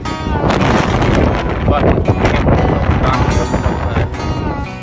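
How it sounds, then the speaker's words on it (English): Strong wind buffets the microphone on a mountainside in West Lofoten, a loud, continuous roaring rush with gusty surges throughout, and a voice briefly speaks over it. "Here I am yet again, hiding under a rock. This time it's the wind."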